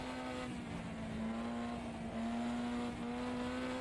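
A race car engine in a sim racing game drones loudly at a steady high pitch, rising slightly as it holds speed, with no talking.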